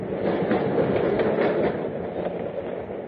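Subway train sound effect from a radio drama: a continuous rumbling ride with faint rhythmic wheel clatter, loud and even before easing slightly toward the end, with no voices.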